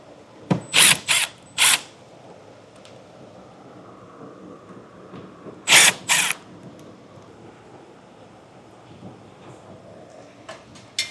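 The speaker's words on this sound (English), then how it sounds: "But we'll get in there and start removing our screws." A power tool backs screws out of the wheel well liner on a 2022 Volvo, several short loud whirring bursts close by, separated by quiet pauses with faint handling noise.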